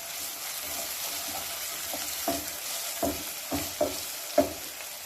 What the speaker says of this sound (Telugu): ఇలాగ అల్లం వెల్లుల్లి పేస్ట్ కూడా వేసేసుకొని పచ్చి వాసన పోయేంత వరకు బాగా ఫ్రై చేసుకోవాలి.